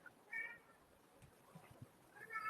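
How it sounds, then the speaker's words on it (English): A grumpy house cat gives two short, faint meows from a distance, one near the start and one at the end, over a quiet indoor background. "I'm sure you can also hear my cat really well."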